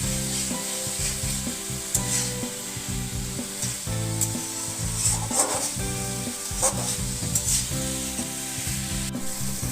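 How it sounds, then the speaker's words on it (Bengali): Turmeric, chili, coriander, cumin and salt are stirred into vegetables frying in a pan, with steady close sizzling and repeated scraping, rubbing strokes of the spoon, no voices. "এখন মশলাগুলোকে সবজির সাথে খুব ভালো করে মিশিয়ে দিতে হবে।"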